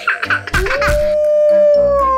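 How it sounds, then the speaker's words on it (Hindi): A long, sustained howl rises and holds steady, following a few short yips and barks at the start; loud and close. "ये भेड़िया है"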